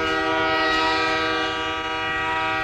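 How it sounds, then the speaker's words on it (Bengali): A train sounds a long, steady horn blast that holds loud and unbroken from start to end, used as a sound effect in a rural Bengali ghost story. "ট্রেনের হুইসেলের শব্দ।"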